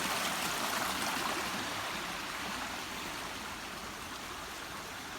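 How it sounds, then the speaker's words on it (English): Rain-swollen stream rushing along a trail on Arran, a steady broadband wash of water close by, even and continuous with no talking. "with water level being up today with rain, it's just like just filled up to the point where it just looks like a river"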